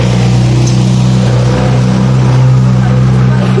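A noisy jeepney engine roars loud and close as it passes, a heavy, constant mechanical drone with a deep rumbling hum throughout.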